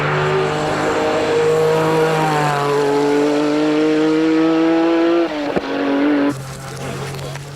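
A Porsche 911 GT1 race car with a water-cooled six-cylinder engine driving on a test track, loud and close, its engine note holding steady and climbing, then dipping sharply on a gear change before settling again.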